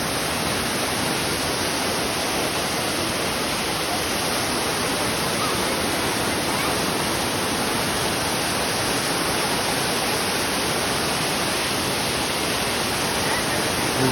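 The Kygal waterfall sends water rushing down in a constant, loud, broadband roar with no pauses, heard close by and unbroken throughout.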